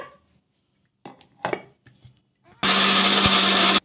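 A mixer grinder whirs at full power for about a second grinding puffed rice dosa batter with water, loud and close, after a few soft handling knocks and clicks.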